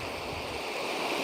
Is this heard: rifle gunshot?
no